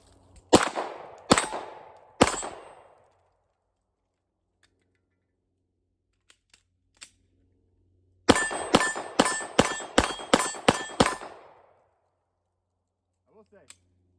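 Pistol shots ring off steel targets at a range: three spaced shots with bright metallic pings, a pause with faint clicks, then a rapid string of about seven shots, each with a ringing clang.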